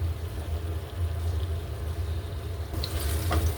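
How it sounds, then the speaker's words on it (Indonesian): Cut banana pieces fry in melted margarine in a pan, giving a steady, close sizzling hiss with a few sharper crackles toward the end and no voices. "Yang ini pisangnya mau saya goreng dulu sebentar."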